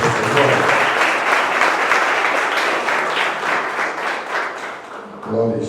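Loud, sustained applause and clapping from a church audience at a youth congress fills nearly the whole stretch, easing slightly near the end as a voice briefly comes in.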